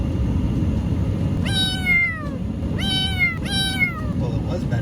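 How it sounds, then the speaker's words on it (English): Bengal kitten meowing inside a moving car, three clear plaintive meows of falling pitch spaced a second or so apart over a steady low road rumble. "Every time she meows, it kind of breaks your heart a little."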